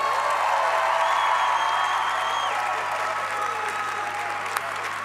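Audience applause at a Christian gathering, steady sustained clapping from a large crowd filling the whole stretch at an even loudness, with a faint voice underneath.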